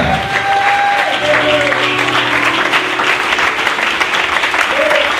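A church congregation at a wedding sermon breaks into loud, sustained applause that fills the hall evenly from start to finish, with some faint voices mixed into the clapping.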